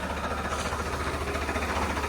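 A Holland tractor engine idles steadily at close range, a continuous low rumble with a fairly even throb and no voices over it.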